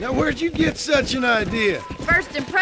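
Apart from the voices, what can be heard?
No everyday noise stands out behind the speech.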